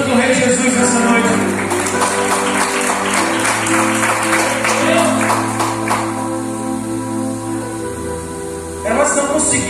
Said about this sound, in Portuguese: Aplauda o nome santo do Rei Jesus nessa noite